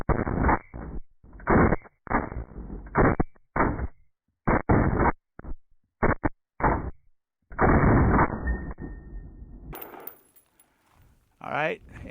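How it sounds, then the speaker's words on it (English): A Sig 553P rifle fires a run of quick shots, each a sharp, loud bang cut off abruptly, with brief gaps between them and a louder sustained blast near the end, heard alone without talking. "So we'll do 6 quick shots here."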